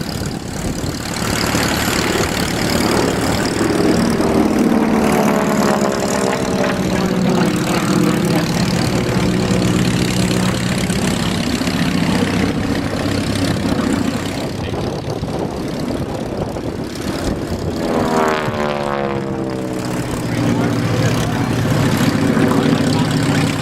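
A North American T6 Harvard training aircraft's radial engine and propeller drone steadily at an airshow, loud and continuous, with the pitch rising and falling as the plane passes by twice.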